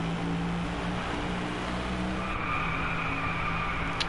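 A car drifts in the Driveclub racing game with a sustained, loud tire screech over the engine drone. It is continuous and close, and the pitch shifts partway through.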